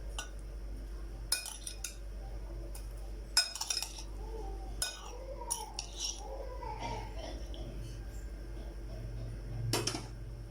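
A spoon clinks and scrapes against a bowl while chopped tomato and fresh coriander are stirred together. The soft, sporadic taps and rattles are spaced out over a quiet background.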